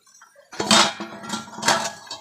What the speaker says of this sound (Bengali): এইবার ঢাকনাটা মাছে খুলে দেব